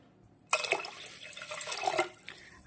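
After a moment of quiet, water pours onto washed rice in a steady splashing stream for about a second and a half, then stops abruptly.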